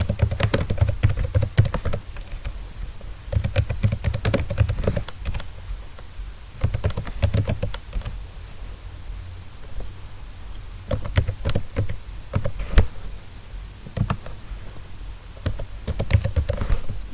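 Fast typing on a computer keyboard while entering data into an Excel spreadsheet, close rapid clicking bursts separated by short pauses, alone with no talking.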